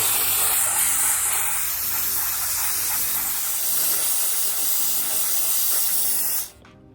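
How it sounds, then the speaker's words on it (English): Loud, continuous hiss of a steamer releasing steam while removing old clear bra film from a car, steady for several seconds before cutting off abruptly near the end. "the steamer is ready to go. We're gonna give it a shot with steam"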